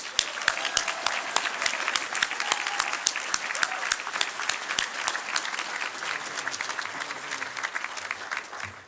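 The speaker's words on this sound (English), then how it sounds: "One more round of applause." A college commencement audience claps in a sustained, dense round of applause that stays loud and even for several seconds before tapering slightly at the end.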